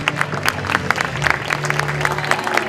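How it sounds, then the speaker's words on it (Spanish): An audience at an innovation talk applauds an incoming speaker with steady, fairly loud clapping and a low crowd murmur beneath it. "Un aplauso, por favor."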